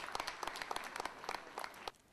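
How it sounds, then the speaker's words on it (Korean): Brief applause from an audience at a year-end city event in Namyangju, lively clapping with audible individual hand claps that cuts off sharply near the end. "다사다난했던 2010년의 어려운 여건에서 이뤄낸 소중한 결과들이기에 영상을 보고 난 후 모두를 위해 큰 박수를 보냈습니다"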